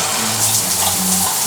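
A bathroom shower runs steadily, a close, even hiss of spraying water with a faint low hum underneath, lasting the whole short moment.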